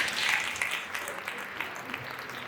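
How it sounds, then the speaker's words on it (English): Audience applause after a conversation session, steady clapping from a crowd that fades slightly toward the end, with no voices over it. "y'all give her a round of applause"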